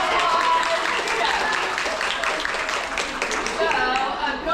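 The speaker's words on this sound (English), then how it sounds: "let's give a round of applause for" Audience applause for Jeff at a live presentation, a steady wash of clapping from a full room that holds for several seconds with a murmur of voices mixed in.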